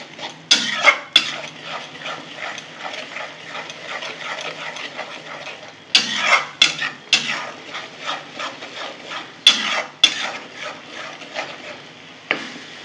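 A spoon scrapes and clinks against a pan while stirring a mashed pumpkin leaf paste with turmeric, in irregular bursts of close, fairly loud strokes with short pauses between them.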